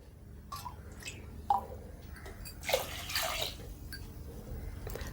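Water poured into a pot of green gram dal with turmeric, salt and sambar powder, heard as a few soft splashing, trickling bursts in a quiet kitchen, with no talk.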